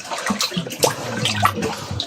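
Seawater gurgles and splashes as it flows through a tunnel inside a cave, a close, uneven rush with bubbling surges and no voices over it.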